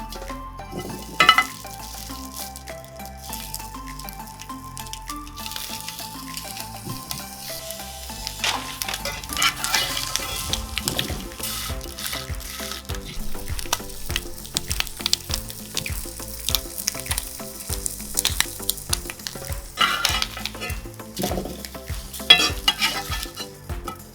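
Bologna slices fry on the griddle of a Chargriller Gravity Fed 980 charcoal grill, giving a busy crackling sizzle with scattered sharp pops and occasional clanks of a utensil against metal, close by, with no speech.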